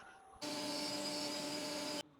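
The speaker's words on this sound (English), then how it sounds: "So just sanding off a little oil." A lathe motor whirs steadily while sandpaper hisses against a spinning elm bowl for about a second and a half, then stops abruptly.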